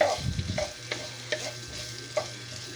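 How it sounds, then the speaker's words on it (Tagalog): Ingredients are sautéed in a pan on a home stove: a brief sizzling burst at the start, then intermittent spatula scrapes and stirring clicks over a low, quiet hiss, with no talking. "Gigisa muna tayo nito."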